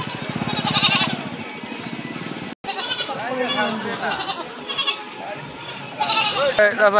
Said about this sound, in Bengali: ব্যাপারীরা ছাগল নিয়ে যাচ্ছে কিনা।